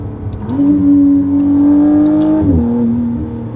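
A McLaren Artura fitted with a Valvetronic Designs free-flow race exhaust gives a loud, close, steady engine drone that rises in pitch, holds, then drops to a lower tone, with faint clicks over it.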